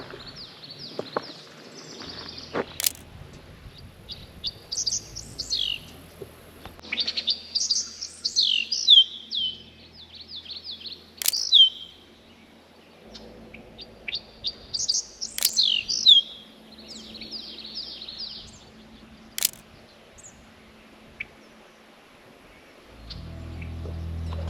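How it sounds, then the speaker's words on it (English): A bird sings outdoors in the evening in bright, repeated phrases of whistled chirps and trills separated by quiet pauses, with occasional sharp clicks and low background rumble. "That bird is still singing. It's beautiful out here."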